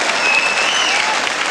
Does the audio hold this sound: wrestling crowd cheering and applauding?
yes